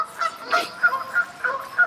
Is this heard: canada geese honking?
yes